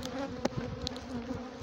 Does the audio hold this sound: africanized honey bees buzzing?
yes